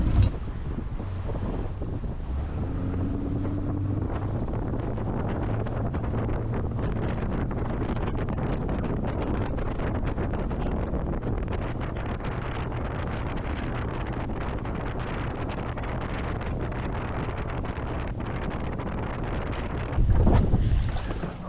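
A northwesterly wind buffets the microphone on a boat out on Moreton Bay, a continuous loud rumble with choppy water beneath, and one sharper gust near the end.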